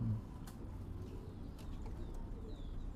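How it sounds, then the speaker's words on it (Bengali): Low, soft cooing from KTM breed pigeons, a double-tagged running pair of high-flying imported-bloodline birds, murmuring steadily and close under faint background noise, with no talk. "এটা কি কবুতর হ্যাঁ কেটিএম কবুতর"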